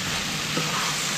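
Pork innards coated in Korean chili hiss in a hot pan as they are stirred, a steady dense sizzle with no pauses across a short stretch.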